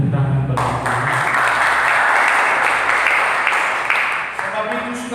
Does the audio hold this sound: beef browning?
no